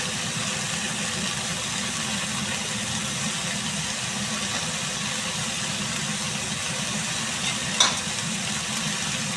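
Vegetables with salt and turmeric frying in a pan as they are stirred, a continuous, steady sizzle with one brief scrape of the utensil near the end.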